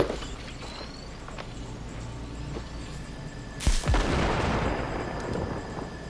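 A single grenade detonates mid-clip in Cyberpunk 2077, a loud sudden burst that trails off into a long rumbling decay over a low steady game-ambience bed, with no talk.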